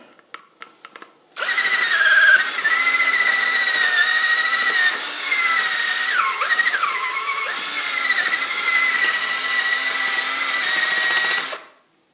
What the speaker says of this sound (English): Let's try to drill it just a little bit more.